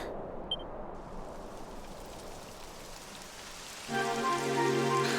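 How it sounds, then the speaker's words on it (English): Rain falls steadily in the Dragon Quest XI video game, a soft continuous patter on the ground, joined near the end by a brighter musical tone over the downpour. "Typical. It would have to go and start raining, wouldn't it?"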